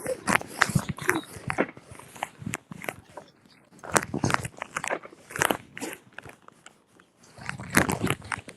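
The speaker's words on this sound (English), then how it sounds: "eating Doritos again" Someone crunches Doritos chips close to the microphone, with loud, irregular bites and chewing in bursts separated by brief pauses.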